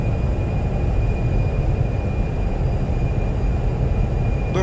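Fenix A320 airliner in Microsoft Flight Simulator with reverse thrust deployed on landing at Pensacola, a steady loud broadband engine roar with a faint high whine, continuous and unbroken throughout.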